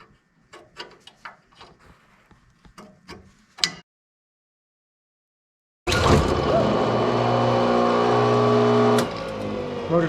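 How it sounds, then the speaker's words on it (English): The motor of an old Craftsman table saw spins up with no belt fitted, making a loud, steady whirring hum that cuts off after a few seconds. Scattered clicks and taps come before it, then a pause. "So the motor's good because it spun without the belt on it."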